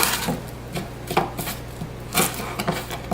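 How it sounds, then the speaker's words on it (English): Shallots are sliced thin with a knife on a cutting board, giving a quick run of crisp chopping taps with uneven rhythm that sound close and clear, with no talk. "And then you're just going to cut them and slice them thin."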